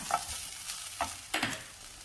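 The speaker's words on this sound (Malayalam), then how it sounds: "അതിലേക്ക് മുളക് ചതച്ച് വെച്ചിരിക്കുന്നത് ചേർക്കാം" Crushed chilli goes into a hot pan for a jackfruit seed stir-fry, with soft frying sizzle and a few close scraping stirs, no talking.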